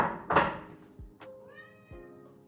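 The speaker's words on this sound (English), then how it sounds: "Yes, I have a little cat in the background." A small cat meows a few times in the background of a kitchen, faint, short calls with soft thuds between them.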